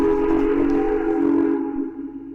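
A toy train whistle sounds in a ThomToys video game, one steady, loud tonal blast held for about two seconds before fading slightly.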